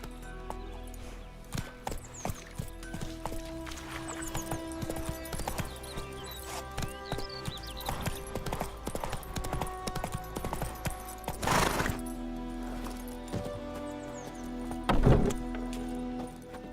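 Horse hooves clip-clop at a quick, steady gallop in The Witcher 3: Wild Hunt, close and prominent over game music, with a couple of louder whooshing bursts partway through and no talking.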